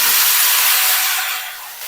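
Radish leaves and grated radish tipped into hot ghee set off a loud, bright frying hiss that gradually settles to a quieter sizzle.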